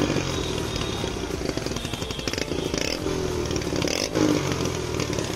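A Hero Splendor Plus BS6 motorcycle idles and revs through a newly fitted silencer, giving a steady, close, throbbing exhaust note with slight rises in engine speed throughout.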